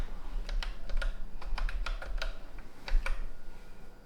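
Keys clack on a ZX Spectrum computer keyboard in a quick, irregular burst of separate taps, close and fairly quiet, with a low hum underneath.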